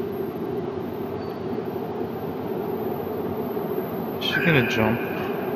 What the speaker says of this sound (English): Here's the train! The train!